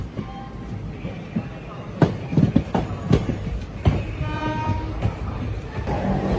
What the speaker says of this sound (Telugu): అటు సైడ్ చూడండి, కాకినాడ పోర్ట్ సాయినగర్ షిరిడి బండి అయితే ఉంది గైస్